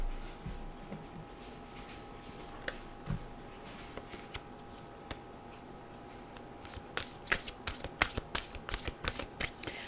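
A deck of mantra cards being shuffled, soft papery riffles and taps building into a denser burst of crisp flicks near the end, heard close over a faint steady hum.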